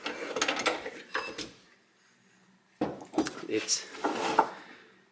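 A BMW touring rear trunk door hinge is handled and fitted, giving soft metallic clicks, rattles and scraping in two short bursts separated by a quiet pause, fairly faint and close.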